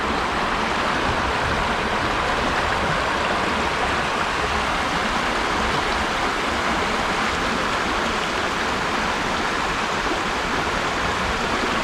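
A stream of water flows steadily in Switzerland, a continuous close rushing and gurgling wash with no break and no voices.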